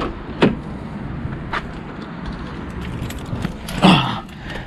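Door of a BMW 335i opening and closing as someone gets in, two distinct clunks a few seconds apart with quiet rustling between them.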